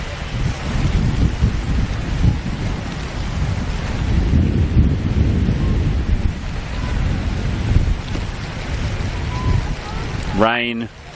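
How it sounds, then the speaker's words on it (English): Steady rain and wind noise on an outdoor football pitch during a women's match, a broad hiss filling the whole clip, with a short rising tonal sound near the end. "Rain"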